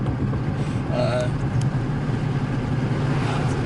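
A 2016 Dodge Challenger 392 Hemi Scat Pack V8 runs with a steady low rumble throughout, fairly close, with a brief faint higher sound near the start.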